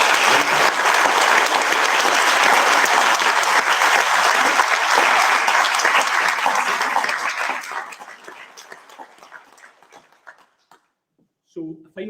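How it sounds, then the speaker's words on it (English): A crowd gathered at a community celebration event gives a loud, sustained round of applause for about eight seconds, then the clapping thins to scattered claps and fades, with a voice briefly at the end. "join me in offering a round of applause and thanks to everyone."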